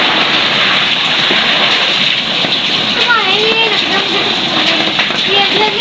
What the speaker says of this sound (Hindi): आज इधर बारिश बहुत ज़्यादा तेज है